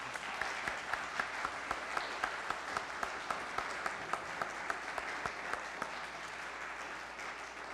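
Congregation clapping for a quartet after offering music in a church, a broad continuous applause with some sharp individual claps popping out near the front, steady in loudness and lasting throughout without speech.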